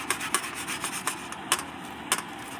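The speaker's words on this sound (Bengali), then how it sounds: "এবার কলাটাকে ঘষে নেব" A banana is rubbed against a hand grater for a cooling summer dish, giving close, rhythmic rasping strokes with a few sharper scrapes, and no voices.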